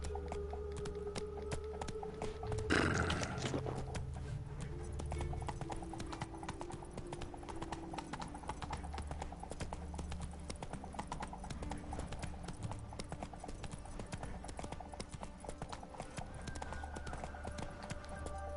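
Roach, the horse in The Witcher 3: Wild Hunt, gallops in a steady clip-clop of hooves that carries on throughout, with a brief louder burst near the start and game ambience and faint music beneath.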